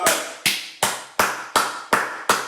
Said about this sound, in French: Vous étiez en train d'applaudir